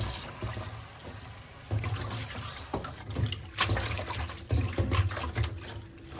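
Fresh parsley and cress are wet with water in a kitchen, with steady trickling and splashing that swells at moments. Brief handling noises sit alongside the running water.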